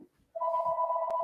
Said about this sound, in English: I have to actually stop this phone ringing.